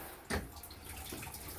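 Running water flows from a tap fed by a newly installed 3 hp pump on a 380-foot well, a soft steady splashing stream with a brief louder gush near the start, close and faint, no voices.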